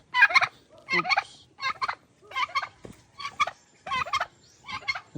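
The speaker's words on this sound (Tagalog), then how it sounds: "My pabo over here." A farm turkey gobbles repeatedly, about eight sharp rattling bursts in a steady rhythm, loud and close with short quiet gaps between calls.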